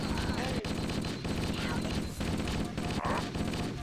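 Continuous automatic weapon fire in Halo, dense rattling bursts filling the mix, loud and close, with someone speaking French over it.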